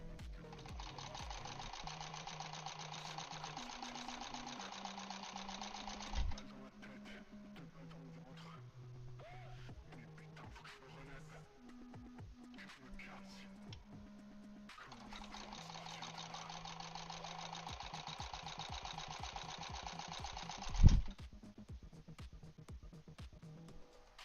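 A home sewing machine stitching a scrappy quilt, steady whirring runs in two long stretches with a softer pause between, moderately close, with a couple of sharp clunks and no speech.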